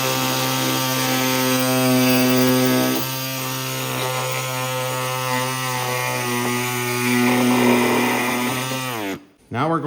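A power tool, likely a small saw or rotary cutter, trims the hood of a Cub Cadet Cyclops garden tractor, running as a loud steady whine for about nine seconds before cutting off abruptly.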